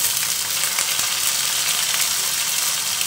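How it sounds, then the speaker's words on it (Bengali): Prawns hit a pan of browned frying onions, giving a steady, bright sizzle that holds evenly throughout at close range, with no voices over it. "দেখো পেঁয়াজটা কিন্তু ভাজা হয়ে গেছে। এই যে এখন চিংড়ি মাছ দিয়ে দেব।"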